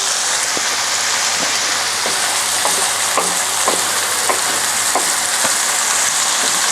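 Hungarian chicken paprikash mixture sizzles steadily in a pan, a continuous loud frying hiss with faint intermittent scrape or tick sounds, no talking.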